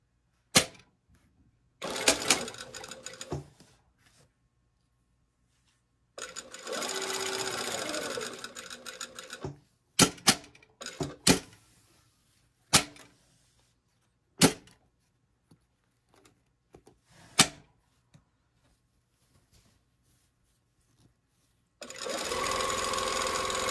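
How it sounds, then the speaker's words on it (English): Sewing machine stitching the short end of a garment, with short bursts and a few longer steady runs of close mechanical whirring, interspersed with sharp clicks and clacks of handling and quiet pauses. "Now we want to sew the other end and we'll start. The short end this time."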